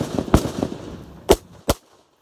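Toy blank guns fired outdoors, a few sharp cracking pops: one louder shot early among smaller snaps, then two distinct bangs about a third of a second apart before silence.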